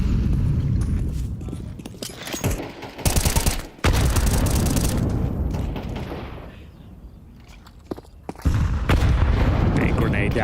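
Counter-Strike esports match at ESL Pro League: bursts of rapid gunfire and booming grenade blasts come in loud clusters, separated by quieter stretches, with commentators talking over the action.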